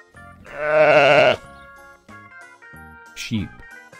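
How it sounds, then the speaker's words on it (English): A single loud sheep bleat, wavering and close, followed by quieter voices speaking. "Sheep."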